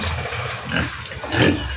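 A pig grunting close by in two short rough bursts over low, steady background noise.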